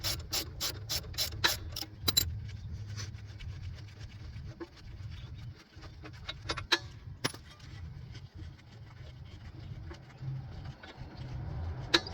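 A ratchet fitted with an 18 mm socket loosens the front brake bolts on a 2010-2015 Chevy Camaro, making quick bursts of close pawl clicks at first, then scattered clicks and clanks of metal tools, with no talking.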